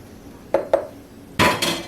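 Shrimp dropped into a cooking pan give two quick light clinks, then a louder metallic clatter and scrape of pan and utensil, close and alone.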